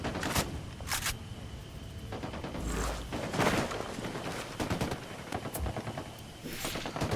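Rapid bursts of squad gunfire in Ghost Recon Wildlands, several volleys and single shots crackling through a busy combat scene at mid distance, with no talk over them.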